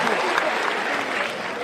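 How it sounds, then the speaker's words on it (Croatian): A stand-up comedy crowd gives a thin, scattered round of applause, a steady spread of clapping close to the stage with talk running over it. "To je taj težak aplauz"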